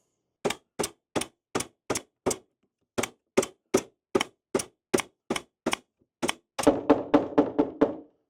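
A nail gun firing into the wooden frame of a chicken coop, about sixteen sharp, evenly spaced shots close by, the last few coming faster with more ringing resonance.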